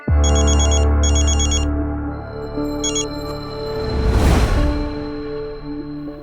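A telephone rings with a bright electronic ringtone in three short bursts, the first two back to back and a third after a pause, over a low steady hum and a brief whoosh.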